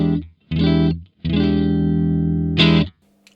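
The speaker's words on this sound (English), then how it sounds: "we're all set up with my Strat going into a Mesa Boogie Mark IV clean channel" A Stratocaster electric guitar played through the clean Rhythm 1 channel of a Mesa Boogie Mark IV amp rings out in a few sustained chords with brief gaps between them, close and loud.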